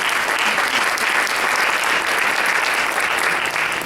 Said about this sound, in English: You should give yourself a hand up and applause